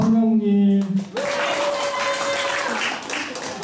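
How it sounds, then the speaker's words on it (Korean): Audience clapping at a Korean ukulele ensemble's 2018 autumn concert: a sustained note fades in the first second, then a modest, even wash of applause carries on to the end. "이 박수 소리가 제일 작은 것 같아요."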